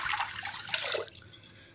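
Water poured into a large kadhai set on a gas stove, a short splashing pour with bright spray that trails into a few fading drips and trickles.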